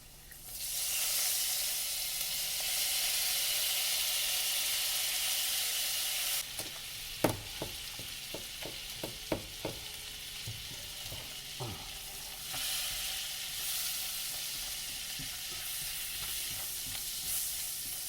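Blackened salmon sizzles loudly in a pan with squeezed lemon, a dense steady frying hiss. Midway comes a burst of clattering scrapes and taps from the pan being worked, then the sizzle settles again.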